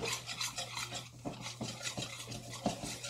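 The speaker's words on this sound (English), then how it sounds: "And we need to whisk this." Six egg yolks being whisked by hand for a rich chocolate pie, a steady scraping, rasping stir against the bowl with light clinks, close and continuous with no talk.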